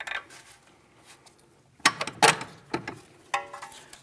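A few light metallic taps driving mounting bolts through the front left CV axle assembly of a 2016-2025 Chevrolet Malibu, two close knocks followed by a single sharper tap, near and clear in a quiet shop.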